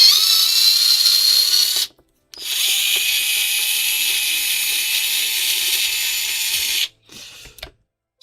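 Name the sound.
torque wrench being used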